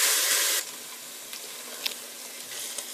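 An onion and spice mixture sautés in a pan for a chicken kurma, giving a steady, soft sizzle with a brief louder hiss at the start and a few faint clinks.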